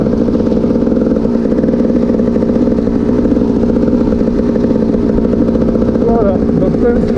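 A GasGas 300 EC two-stroke dirt bike ridden along a trail makes a loud, close, steady buzzing drone with rattling clatter throughout. A voice may be heard faintly under the engine.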